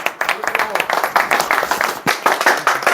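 Applause for a first prize winner at a small local contest: a crowd claps in quick, uneven bursts, close and lively, mixed with voices talking over it.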